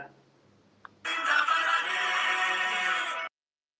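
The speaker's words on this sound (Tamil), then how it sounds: "ஃபோன் அடிக்குது" A phone rings with a bright electronic ringtone that starts after a faint click and sustains steadily for about two seconds before stopping abruptly, clear and close with nothing else around it.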